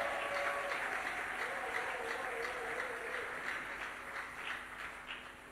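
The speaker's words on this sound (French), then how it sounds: "Est-ce que tu peux bien acclamer le roi de gloire?" Church congregation in Kinshasa applauding and cheering for several seconds, a dense, steady wash of clapping with crowd voices underneath, loud throughout and tapering slightly at the end.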